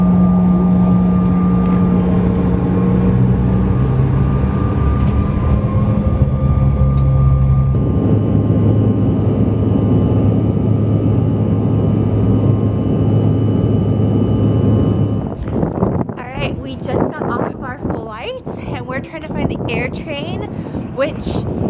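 Steady, loud engine drone and airflow rumble fill the cabin of a loaded passenger plane for most of the stretch, and voices talk over the hum near the end.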